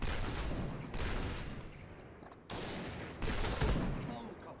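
Rapid automatic gunfire from the video game Point Blank comes in several sustained bursts separated by brief gaps, loud and dense, with a voice faintly audible underneath.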